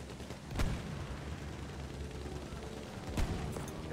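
Battlefield 1 combat at Cape Helles with tanks and attack planes, a low rumble of distant battle broken by two sharp, louder gunshot or blast cracks standing out over the constant background din.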